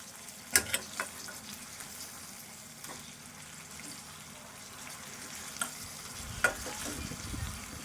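Egg curry is stirred in a frying pan with a low, steady sizzle, broken by a few soft scrapes and knocks of the spoon against the pan. No one speaks.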